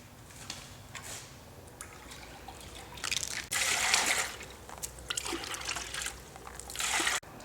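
Liquid colorant from a 10-ounce bottle poured into a bucket of liquid polymer for a concrete micro-topping mix, giving a close trickling and splashing that swells into louder pouring bursts.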